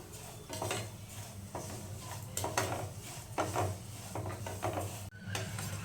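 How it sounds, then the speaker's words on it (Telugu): Vermicelli fries in a pan until golden, with a continuous soft sizzle and irregular scraping, stirring knocks against the pan, close and fairly quiet, and no talking. "గోల్డెన్ కలర్ వచ్చే వరకు ఫ్రై చేసుకుందాం."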